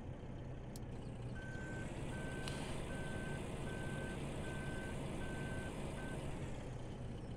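A grain truck in Farming Simulator 17 reverses with a steady series of evenly spaced backup beeps over a constant low engine rumble and road noise, heard alone without talking.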